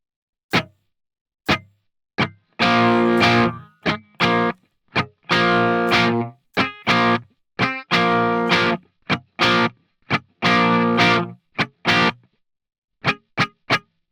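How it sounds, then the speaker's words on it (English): Electric guitar with every string lightly muted under the fingers is strummed in a rhythmic pattern, alternating percussive scratchy chucks with sustained, distorted chord strums, played alone and close. "We're just lightly laying our finger across all the strings"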